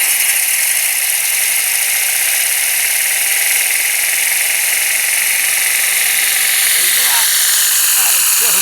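A Tesla turbine spins at high RPM, giving a loud, constant high-pitched whine and hiss that continues throughout, with a voice speaking briefly near the end.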